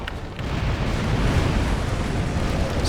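Ship cannons firing in the naval pirate game Tempest, heard as a continuous loud, dense rumbling roar of overlapping blasts that fills the whole stretch without pause, with no voices.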